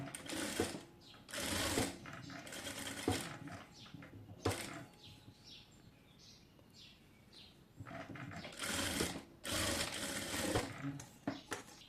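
An electric sewing machine stitches a designer sleeve in fast bursts of whirring, stopping and starting several times with quiet pauses between runs.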